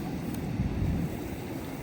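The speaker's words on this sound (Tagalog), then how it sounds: "Oh, lakas hangin." Strong wind buffets the microphone in a roaring gust on an ocean shore beach, with the wash of sea waves blended underneath.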